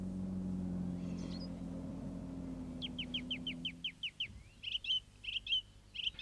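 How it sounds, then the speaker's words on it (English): Birds of the dawn chorus in the countryside, heard after a low rumble fades: a quick run of about ten thin, high chirps, then louder clustered trills and call notes from nearby birds. "the dawn chorus begins."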